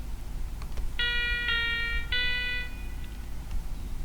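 Electronic tones beep three times in quick succession, each a bright sustained note, with a later fainter blip over a low background rumble and no talk.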